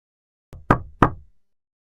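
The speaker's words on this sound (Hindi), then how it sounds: "फिर से दरवाजा पहले से भी जोर से खटकता है।" Three sharp knocks land on a door at night, one lighter tap followed by two heavy, loud raps about a third of a second apart, each ringing briefly, in an otherwise silent room.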